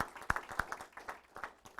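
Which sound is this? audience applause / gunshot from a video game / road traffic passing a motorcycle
audience applause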